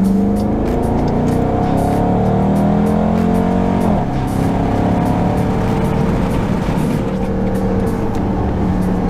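Dodge Durango R/T with its 5.7-liter Hemi V8 in sport mode revving hard, a loud, continuous engine roar with rising and falling pitch sweeps and a brief dip midway, no speech over it.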